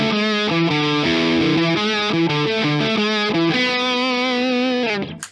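Distorted electric guitar riff from a Harley Benton CST-24T P90 on the bridge pickup through an OCD overdrive, loud chugging chords and shifting notes played alone for about five seconds before ringing off.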